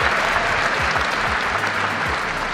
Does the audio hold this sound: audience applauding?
yes